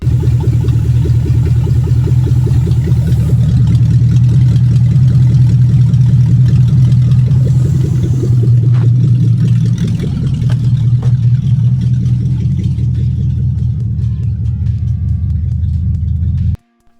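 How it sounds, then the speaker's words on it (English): A Toyota 3UZ-FE V8 swapped into a Mercedes C230 Kompressor coupe idles with a steady, loud low rumble and slight pulsing, running unbroken before cutting off abruptly at the end. "and then the engine idles."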